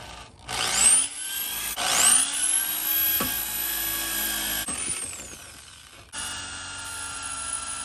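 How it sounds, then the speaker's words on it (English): A power drill fitted with a small bit bores a pilot hole while rock sliders are installed on a 4x4, giving a high whine that spins up twice, runs steadily and drops off, close with no talking. "Now using a smaller bit right now just to give me a pilot hole."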